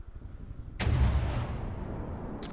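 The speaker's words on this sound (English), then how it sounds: "We are literally shooting our deck because our failsafe is failing to be safe." Cannons on a battleship in From the Depths blast into their own deck, a sudden heavy boom followed by a long rumbling roar, with a sharp crack near the end.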